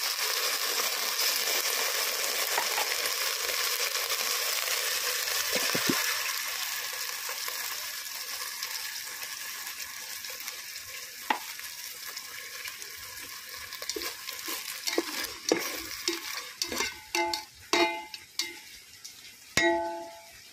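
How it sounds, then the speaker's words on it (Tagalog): Sardines sauté in a hot pan with a steady, close sizzle. Sharper clinks and scrapes of stirring follow toward the end, with no voice. "habang ginigisa natin yung sardinas"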